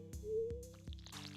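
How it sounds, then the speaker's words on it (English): Watering dog bowls in Stardew Valley makes a game watering effect: a few soft, evenly spaced liquid drips with a sustained tonal note, close and clear, with no talk. "Water those dog bowls."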